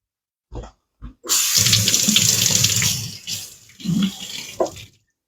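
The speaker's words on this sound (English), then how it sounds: "I'm actually going to wash that jar off so it doesn't get inside my canner" A canning jar is rinsed under a running kitchen tap: a steady, close rush of water splashing against glass in the sink, preceded by a couple of brief knocks and ending in a few shorter splashes as the flow is cut.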